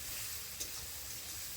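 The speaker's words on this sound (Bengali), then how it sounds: "মশলা দিয়ে ভালো করে কষিয়ে নিতে হবে।" Ground spice paste fries in plenty of hot oil with onions, a low continuous sizzle with a brief stirring scrape partway through.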